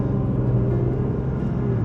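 Volvo XC70 with a 3.2-litre inline-six engine pulling under throttle, a steady, loud low-pitched drone heard from inside the cabin with no talk over it.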